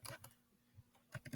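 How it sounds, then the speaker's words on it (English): Quiet clicking of computer keyboard keys, a brief burst of typing, then a pause, then another quick run of keystrokes, close and faint with no talk. "I can't type and talk."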